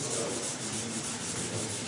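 Steady, continuous rasping of 240-grit sandpaper rubbed over rusted, pitted metal wet with WD-40, a close broadband scrubbing with a slight back-and-forth rhythm, no voices.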